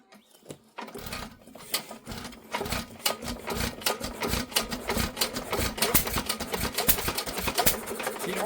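Amanco Ignitor stationary petrol engine, under repair with new mica washers, running on petrol: a rapid, steady train of sharp mechanical ticks and knocks, close and fairly quiet, starting up after a brief pause.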